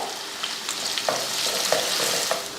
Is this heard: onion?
yes